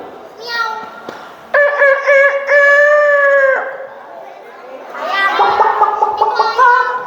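A person mimics a chicken with several loud, drawn-out crowing calls broken by short pauses, the pitch rising and wavering toward the end.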